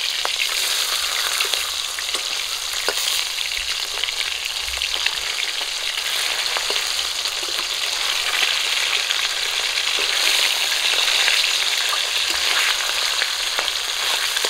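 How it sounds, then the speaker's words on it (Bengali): Pabda fish fry in hot oil in a pan, a loud, dense, continuous sizzle and crackle that runs unbroken for the whole stretch, with occasional sharper spits and no talking. "মাছগুলো এক পিঠ করে ভাজা হয়ে গেছে"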